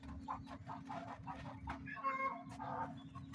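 Rhode Island Red and Black Australorp hens clucking in a coop near a light, several soft overlapping clucks and murmurs at close range over a steady low hum, no talking.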